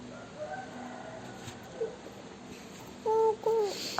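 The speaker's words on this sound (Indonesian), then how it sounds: "Pagi-pagi sekali ayam jantan berkokok." A rooster crows in short, strained bursts toward the end, over a quiet, faintly humming background with a few earlier soft calls.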